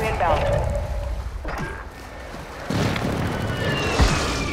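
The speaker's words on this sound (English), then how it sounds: "Friendly precision airstrike inbound." Precision airstrike explosions boom in a multiplayer shooter game, heavy rumbling blasts and bursts layered over continuous noisy battle sound while players talk.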